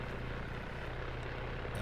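Helicopter in the Arma 3 combat game flying nearby, a steady, dense rotor-and-engine drone with a low hum that holds level throughout, no voices.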